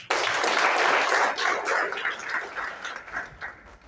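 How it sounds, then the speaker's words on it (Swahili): An audience applauding a team at a Kenyan community event, a burst of many hands clapping that starts abruptly, holds dense and loud, then thins and fades toward the end. "Tupigie hii team makofi."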